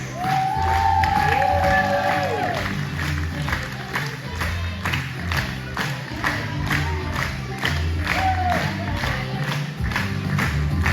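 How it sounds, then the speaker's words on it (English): A lively crowd at a costumed performance show applauds and cheers, with rhythmic clapping under repeated high whoops and shouts rising and falling over a loud, constant roar. "A big applause for our 3 hosts."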